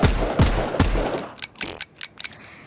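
Revolver shots in the Hard Bullet video game, three loud booming shots in quick succession, then a run of lighter mechanical clicks and snaps like cylinder and reload handling.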